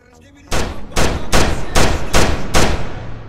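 Six pistol gunshots fired in a video game, loud sharp reports spaced at a steady rhythm, each with a short decaying tail, after a brief quiet lead-in.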